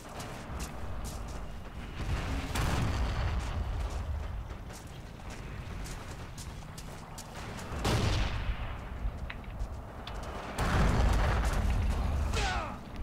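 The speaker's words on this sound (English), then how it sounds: "Not as well as whoever is shooting at me there." Enemy rifle and machine-gun fire rattles steadily in Forgotten Hope 2 multiplayer combat, with several loud close cracks and bursts standing out over a constant din of battle.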